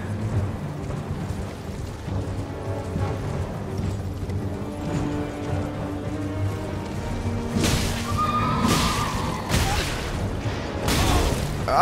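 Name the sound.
horse neighing in a video game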